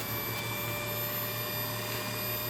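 A wood lathe motor runs at around 1000 RPM, a continuous even hum with a faint mechanical whine, steady and moderately loud, with no speech over it.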